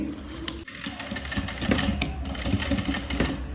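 A sewing machine stitches a flower shape into fabric, running in a steady close motor whir with a brief pause near the start, alone without talk.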